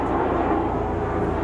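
Steady, broadband rotor-and-engine roar of helicopters passing overhead, loud and continuous with no pauses and no speech.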